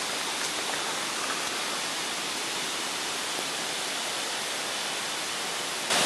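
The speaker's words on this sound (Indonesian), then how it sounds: "Hujan rintik-rintik menambah licin." Light drizzle falls in a jungle on a slippery trail through the forest of Gunung Niut, a steady, even hiss of rain that fills the whole clip with no voices, swelling slightly louder at the very end.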